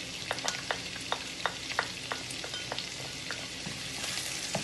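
Butter, garlic, ginger and parsley sizzle in a lobster pan, a steady fry crackling with sharp pops and spatters, close and alone.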